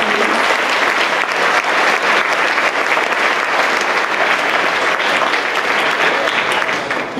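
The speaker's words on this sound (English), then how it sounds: "another round of applause" Sustained, loud applause from a large crowd at an elementary school fifth grade award celebration, dense and continuous with no break, fading slightly only at the very end.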